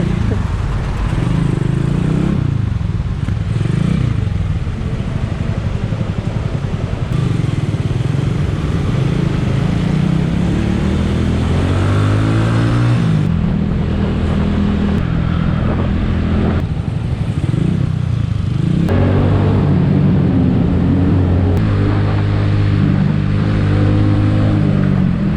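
A Skygo Earl 150 motorcycle with a CG 150 engine and an upgraded 28mm carburetor rides through Manila traffic, its engine droning loudly and rising and falling with throttle under constant wind rush.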